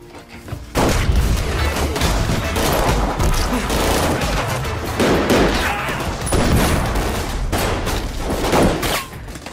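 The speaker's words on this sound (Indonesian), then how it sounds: "Adu tembak terjadi cukup sengit" Dense, continuous gunfire with rapid overlapping shots and booms, loud and chaotic, sustained throughout like an intense firefight.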